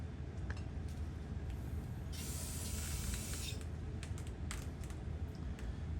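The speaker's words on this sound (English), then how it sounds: "this old brake cleaner that I'm using, I think carburetor brake cleaner, it sure takes that magic marker off good" Carburetor brake cleaner sprays onto an engine main bearing in a short hissing burst, quiet and close, followed by a few softer spurts and small clicks.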